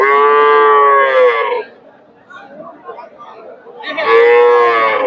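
Cattle at a rural cow market low loudly and close by, two long drawn-out moos with a pause between them while background chatter fills the gap.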